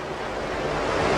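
Rushing waterfall water in a radio drama scene, a steady broadband roar that swells slightly toward the end, with no voices over it.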